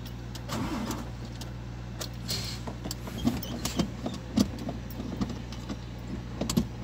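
A ten wheeler truck engine being started during a driving lesson, a low steady idle rumble with clicks, rattles and handling knocks in the cab, heard from close inside with no talking.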